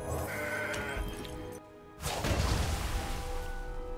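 The mountain goat card in the Legends of Runeterra digital card game gives a bleating goat call, followed by a sudden crash-like game effect. Both are clear and close, with no talking.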